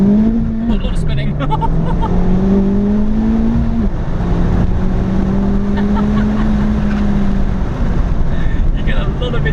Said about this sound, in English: You get a lot of intake noise with this thing